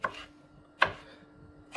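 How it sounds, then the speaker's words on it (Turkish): Three sharp knife chops through pickles on a cutting board, spaced apart with pauses between, close and crisp. "Bunun için kendim doğruyorum."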